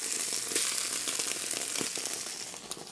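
Onion sautés in a hot pan as it softens, giving a steady, close, crackling sizzle with small pops and spits throughout.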